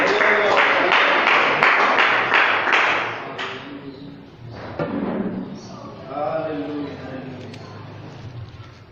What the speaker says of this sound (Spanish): Dando gloria a Dios y un aplauso